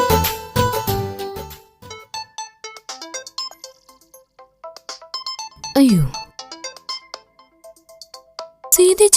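A mobile phone ringtone plays as a melodic electronic tune, repeating in short phrases with a brief voice heard at the start and again near the end.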